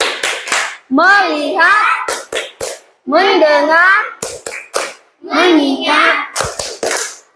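Children in a classroom run a rhythmic 'tepuk fokus' clap routine, sharp bursts of hand clapping in patterned groups, alternating with loud chanted voices from the group.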